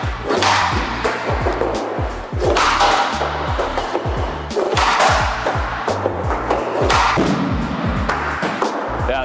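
Hockey stick shots striking a puck, a run of sharp slaps and thuds with stick clatter in quick succession, loud and close, with no talking.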